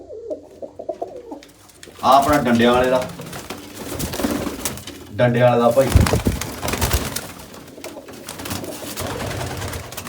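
Pigeons coo softly in a low, rolling murmur at the start, then someone talks loudly over the birds for most of the stretch, with the cooing continuing faintly underneath.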